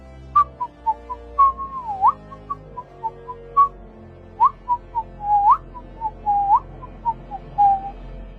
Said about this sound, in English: she began whistling a cheerful melody and walked away